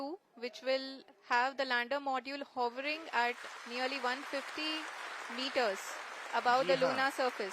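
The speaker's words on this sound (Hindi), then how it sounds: "आप इस तालियों के गड़गड़ाहट को सुन सकते हैं" Applause from ISRO scientists during the Chandrayaan-3 lunar landing rises as a hissing wash of clapping beneath a steady stream of live commentary, strongest midway through.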